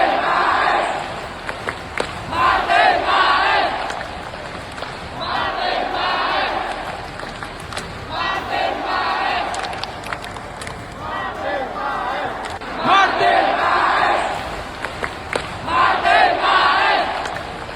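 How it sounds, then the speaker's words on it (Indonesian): A full stadium crowd at a football match applauds Marten Paes, loud sustained clapping and cheering rising in repeated waves, with a voice talking over the roar. "satu stadion langsung memberikan aplaus kepada Marten Pas"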